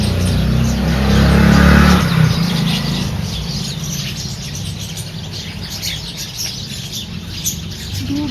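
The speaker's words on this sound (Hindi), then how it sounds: "बाकी यहाँ दीवार पे बैठ के सो रही हैं और बातें चल रही हैं चिड़ियों की" House sparrows chirp from a tree and a wall, with scattered twittering over a steady engine-like rumble that is louder in the first two seconds, then eases into a softer background hum.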